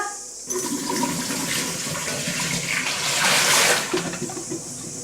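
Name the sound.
water tipped out of a flower vase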